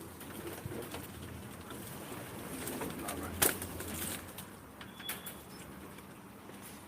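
A racing pigeon bought at auction coos in a loft, low repeated coos over a constant background hum with a brief sharp knock midway, while someone says a few words.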